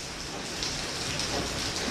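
Steady rain pours down, a dense even hiss of drops on surfaces with no let-up, heard while out riding an All New NMAX scooter.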